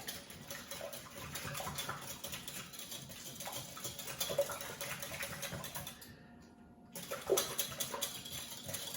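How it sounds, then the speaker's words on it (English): Eggs seasoned with salt and cracked black pepper being whisked in a bowl, a fast, steady ticking patter close by, pausing briefly before resuming. "We're gonna whisk it together."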